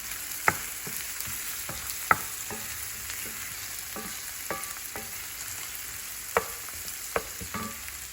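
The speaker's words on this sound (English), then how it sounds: "I'm gonna fry this till it turns brown color" Sliced onion fries in a pan over a medium flame with a soft, continuous sizzle, punctuated by sharp spatula knocks against the metal at irregular intervals.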